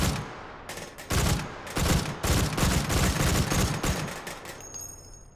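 Rapid bursts of gunfire from a three-round-burst gun in a VR shooting game, loud and close, firing in quick repeated clusters with short gaps between bursts and a fading tail at the end.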